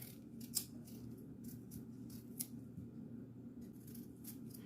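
A potato being peeled by hand with a knife, soft repeated scraping and shaving strokes up close, with a couple of sharper cuts, no talking.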